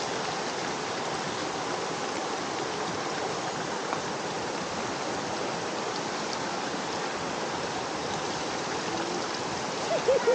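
Water rushes in a steady, broad wash along the river stream at Sungai Pertak near Kuala Kubu Bharu, continuous and fairly close, with brief faint voices and a knock near the end.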